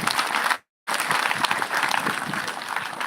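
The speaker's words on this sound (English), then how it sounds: "Let us all give a hearty clap to the Vice Chancellor." An audience at a careers day gives hearty applause for a university Vice Chancellor, dense, steady clapping that cuts out briefly near the start and then resumes at full strength.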